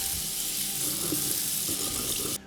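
Water runs steadily from a tap over a gutted snapper being rinsed, a close constant splashing rush that cuts off abruptly just before the end.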